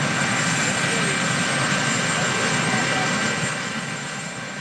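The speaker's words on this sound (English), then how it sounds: "over the roar of the Marine One jet engine" The Marine One helicopter's turbine engine roars loudly and continuously, with a steady high whine over broadband noise and a slight fade near the end.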